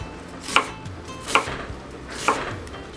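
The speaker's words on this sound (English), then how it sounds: "You're just cutting very small" A knife chops food into small slices for an omelette, giving three sharp, close chops spaced about a second apart on a board, with no talking.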